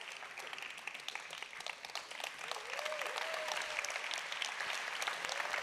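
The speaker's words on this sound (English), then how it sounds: "Big applause." Applause from an audience at a closing ceremony, a dense rolling patter of many hands that swells and grows louder midway, with a faint voice briefly audible underneath.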